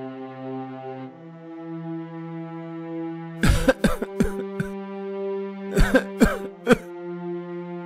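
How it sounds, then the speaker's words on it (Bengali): A woman in a Bengali moral-story cartoon breaks into a fit of coughing, harsh bursts in two close clusters over a steady background tone, near and fairly loud with no talking. "কাশতে কাশতে তোমার যে বেহাল দশা"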